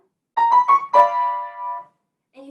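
On piano, three quick notes of a Moszkowski melodic line lead into a longer held note that rings out and fades, followed by a brief moment of speech.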